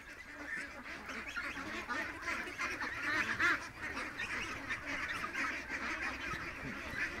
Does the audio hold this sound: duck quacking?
yes